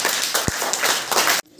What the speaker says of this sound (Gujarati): હાલો તાળી પાડી દો.